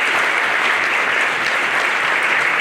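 A school assembly audience claps loudly and continuously, a dense, even wash of applause from a large crowd with no pause.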